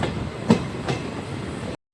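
Bhavnagar–Jetalsar passenger train running on rails while entering Dhola Junction, a steady rumbling rail noise with two brief louder wheel clacks, heard from on board, cutting off abruptly near the end.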